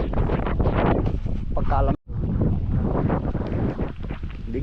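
Cold wind gusts steadily outdoors over a farm plot where a vegetable crop is grown, buffeting the microphone in a loud continuous roar that briefly cuts out, while a person speaks a word.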